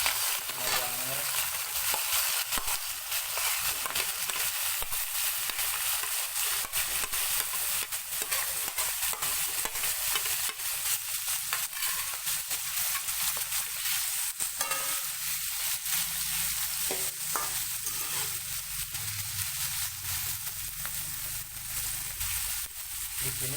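Shallots and onions fry in a pan with a continuous broadband sizzle and hiss, steady and close for over twenty seconds, broken by faint stirring scrapes.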